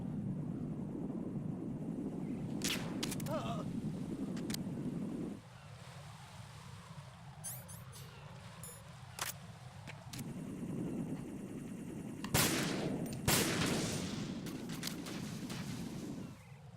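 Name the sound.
gunshots in video game Metal Gear Solid 2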